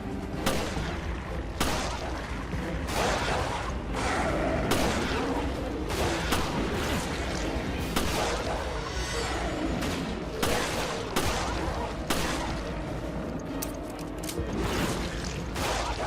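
Gunfire in the video game Resident Evil Revelations comes as a dense, continuous barrage of loud shots. Sharp, repeated blasts are mixed with mechanical clatter and booms throughout.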